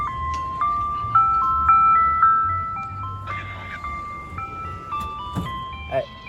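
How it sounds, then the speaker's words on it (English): A new ice cream truck parked at a Thompson Lane railroad crossing plays a stepped electronic jingle, steady and fairly loud, with brief outdoor noises and a faint voice near the end. "We have an ice cream truck at this railroad crossing right here."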